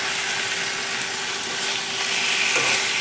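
Spices frying and being stirred in a pan, a continuous close, loud sizzle with scraping stirring noises throughout and no talk.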